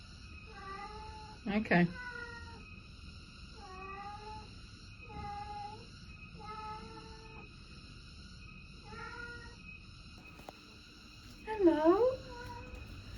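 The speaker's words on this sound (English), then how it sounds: "Are you going to stay there and just meow?" A wet cat that has come in from the rain in Kintamani, Bali, meowing repeatedly in short plaintive calls, fairly close, with a person speaking softly in between.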